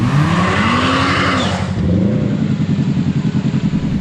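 Loud Kawasaki Teryx5 H2 side-by-side UTV engine revving hard at full power on open trail, with a rising whine that drops off into a rapid pulsing throb, close to the microphone.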